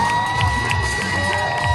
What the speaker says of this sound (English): Lots of love from the crowd.